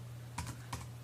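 Typing on a computer keyboard: two quick, soft keystroke bursts with a short gap between them, close by over a steady low electrical hum, with no talking.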